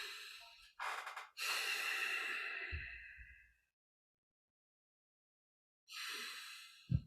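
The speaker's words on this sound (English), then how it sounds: "I'm going to breathe." Deliberate, audible breathing during a vagal-tone awareness lecture: a breathy inhale, a short pause, then a long drawn exhale, followed by silence and another breath near the end, close and alone without speech.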